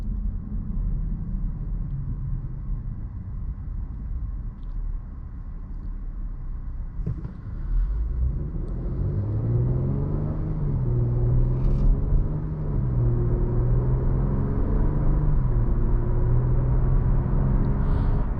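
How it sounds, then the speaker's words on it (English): Inside a 2018 Acura TLX on the move, a low, steady road rumble fills the cabin, with engine tone rising and falling partway through and no one speaking. "You do hear like a little bit of road noise."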